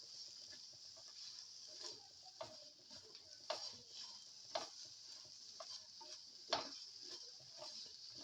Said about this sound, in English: turmeric powder and mix. Thoroughly mix.